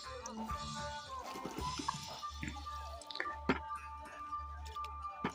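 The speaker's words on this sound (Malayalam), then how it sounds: "അതിലേക്ക് നമ്മൾ ആവശ്യത്തിന് വെള്ളം ഒഴിച്ചു കൊടുക്കുകയാണ്." Water is poured over a coriander spice mixture in a pot on a kitchen stove, heard as close dripping, splashing and squishy liquid sounds with some clatter and faint background noise.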